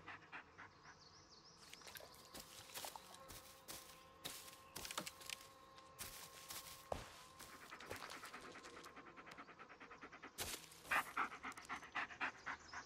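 In the horror video game Blair Witch, a dog pants close by in quick rhythmic breaths over a faint buzzing insect-like background, with scattered sharp clicks and rustles and no speech.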